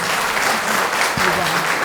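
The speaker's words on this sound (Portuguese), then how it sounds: "Uma salva de palmas para ela, pessoal." An audience applauds a speaker taking the stage, a continuous, loud wash of clapping filling the whole moment.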